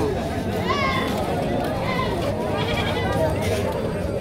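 Goats bleating amid a busy goat and ram market in Jamalpur, with several cries rising over constant crowd chatter and talk nearby.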